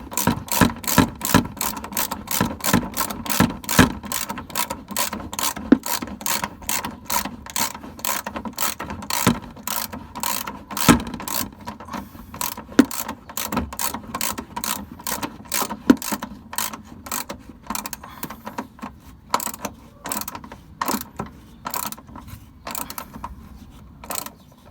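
Ratchet with a 15mm socket tightening rear shock bolts on a 1999-2004 Jeep Grand Cherokee WJ, a close, loud run of rapid clicking strokes, quick at first, then slower and more spaced, with no talking.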